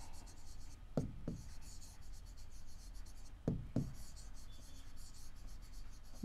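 A pen or pencil writes on paper with quiet scratching strokes, broken by a few sharper taps and scrapes as marks are made.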